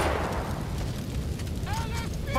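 A cannon booms in Grand Theft Auto V gameplay, a loud rumbling explosion that decays into a noisy roar, with a voice speaking over the tail end.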